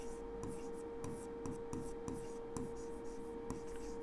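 Chalk or marker writes on a board during a school maths lesson on probability, making short scratchy strokes in a loose rhythm, with a steady hum underneath.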